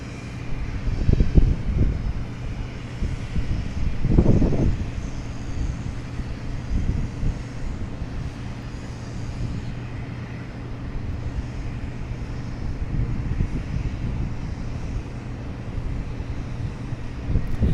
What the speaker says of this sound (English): it's the wind. It's very windy tonight.